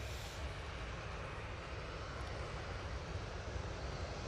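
Ryanair airliners at Manchester Airport, one on final and two departing, produce a continuous jet engine rumble at a low, even level with no voices heard.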